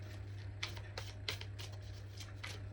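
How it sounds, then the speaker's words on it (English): Tarot cards are drawn and shuffled from a deck in a quiet room, giving a handful of soft, crisp card flicks and slides. "let's get 2 more cards out"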